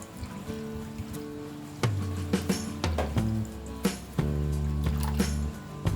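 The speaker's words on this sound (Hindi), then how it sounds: "इसी तरह हम इडली रवा में भी पानी डालेंगे।" Water is poured into idli rava in a bowl to wash it, giving a near, wet splashing and trickling in bursts with low gurgling fills, heard alone without talk.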